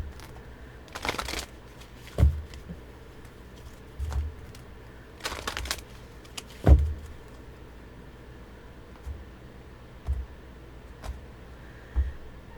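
Playing cards are shuffled in two short, crisp bursts of riffling and rustling, separated by soft handling thumps and light taps, all fairly quiet and close with no talking.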